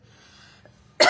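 After a quiet stretch, one loud, abrupt cough erupts close to the microphone from someone who has just breathed in their own saliva.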